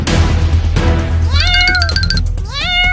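Cartoon cat meowing in a Hindi animated chase, several high rising and falling meows in quick succession over a steady low background hum and busy soundtrack.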